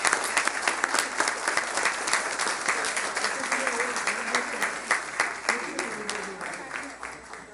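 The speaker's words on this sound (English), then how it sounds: "let's give them all a round of applause" Crowd applause at a Rock Island parade awards gathering outdoors, a steady patter of many hands clapping at moderate distance, with a few voices murmuring beneath it.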